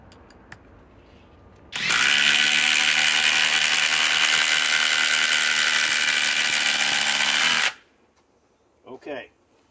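A FLEX FX1371A cordless impact driver with a 3.5 stacked lithium battery drives into a 10-inch leg with pre-drilled holes, hammering loud and steady for about six seconds, then stops; a voice speaks briefly afterward.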